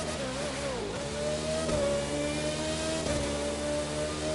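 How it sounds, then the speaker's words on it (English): A Formula car engine holds a loud, steady, high-pitched whine that sweeps up and down as it revs while the car slides close to the microphone, with no voices. "I almost drifted in a Formula car."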